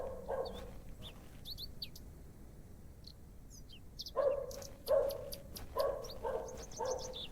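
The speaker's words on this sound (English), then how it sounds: "I hear you, pupper." A pet dog gives a short series of barks, about five spaced yaps in the latter half, with faint bird chirps scattered throughout.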